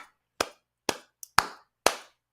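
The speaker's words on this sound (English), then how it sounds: "Clap for what we do on social media." Five sharp, separate hand claps ring out close and loud at roughly half-second intervals, each snapping crisply and decaying quickly into silence, with no voices between them.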